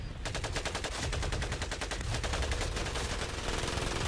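Sustained automatic gunfire in Medal of Honor: Pacific Assault, a fast continuous rattle of shots at steady volume, loud and close with no voices.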